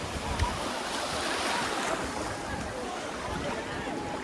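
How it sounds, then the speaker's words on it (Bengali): Sea waves surge and wash onto the sand at Bakkhali beach, a broad, continuous roar of surf with gusty wind buffeting the microphone. "এই চলে এলো ঢেউ।"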